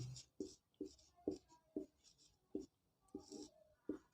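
Marker or pen writing on a board during a lesson on Indian citizenship law, with a series of short, rhythmic scratchy strokes spaced about every half second, fairly faint and close, with no talking.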